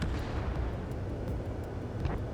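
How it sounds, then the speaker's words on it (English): A missile launches in the combat flight game Ace Combat 7, a dense low roaring rumble that stays loud and continuous from start to finish, with no speech. "Missile away."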